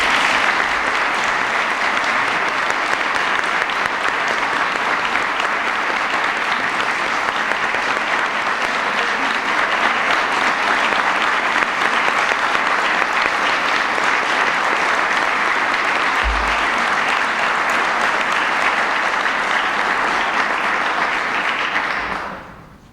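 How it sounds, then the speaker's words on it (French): Sustained audience applause for new members of the Ordre national du Québec at an insignia ceremony in the Parliament building, steady and loud for about twenty-two seconds before it cuts off abruptly. "nous devrions donner une bonne main d'applaudissement à tous nos nouveaux membres."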